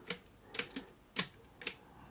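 An accordion's register keys are pressed one after another, the mechanism giving five or so sharp, dry clicks spaced irregularly, close and quiet with no voices.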